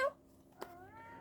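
A small male kitten gives a single short meow near the start, followed by a fainter drawn-out mewing cry later, close and alone in a quiet indoor room.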